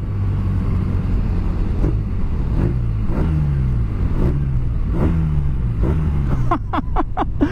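A 2017 BMW R nine T motorcycle with very high torque accelerates hard, its engine note climbing in a series of rising sweeps broken by quick gear changes, loud and close, ending in rapid stuttering bursts.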